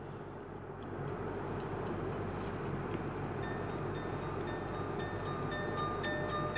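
Samsung's default song plays from a Galaxy S8 phone speaker as a faint, light melody of tinkling, tick-like notes over a steady background hiss, with no talking.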